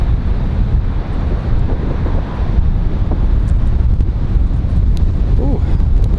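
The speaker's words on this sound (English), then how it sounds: "Ooh, wind's picking up again." Strong, steady wind roars and buffets the microphone at Raleigh Durham International Airport, a constant rushing blast with faint higher whistles drifting through it.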